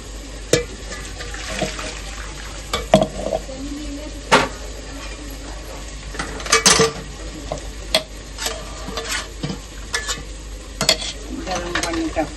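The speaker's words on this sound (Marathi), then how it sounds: "गरम पाणी टाकून घेऊया." Hot water is poured into a simmering village-style spicy mutton curry (rassa) and stirred, giving a steady watery sizzle with scraping ladle knocks and spoon clinks, close and continuous without talk.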